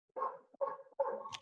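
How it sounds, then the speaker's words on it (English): A pet dog named Bella barks indoors, three short barks in quick succession, fairly close and clear, with no one talking. "My dog's in a very barky mood today,"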